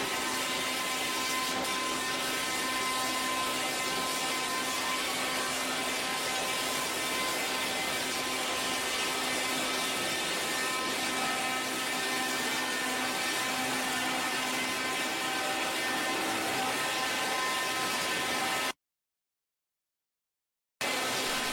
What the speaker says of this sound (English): The WD-1400 is built to handle logs of various sizes, stripping away bark quickly and efficiently.